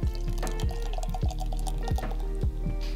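Hello Witte, a fresh 5% Belgian-style wheat beer, is poured from the bottle into a glass, giving a steady liquid stream with repeated dripping, glugging splashes, fairly close and without talk.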